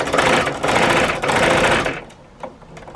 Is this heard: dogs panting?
no